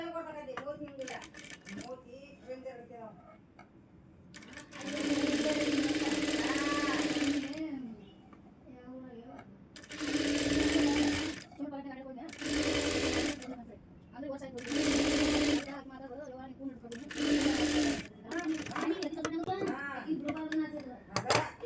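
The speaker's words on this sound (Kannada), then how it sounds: "ಇದನ್ನು ಈ ರೀತಿ ಒಂದು ಅರ್ಧ ಇಂಚಿನಷ್ಟುವರೆಗೆ ಸ್ಟಿಚ್ ಮಾಡ್ಕೋಬೇಕು" A sewing machine stitches blouse fabric in several loud bursts of steady whirring run, separated by pauses in which someone talks over softer handling noises.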